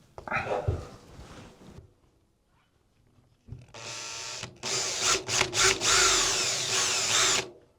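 A power drill bores through a perspex sheet during a yurt build, running in loud, steady bursts with brief dips over the second half, after a stretch of quiet talk and handling noise.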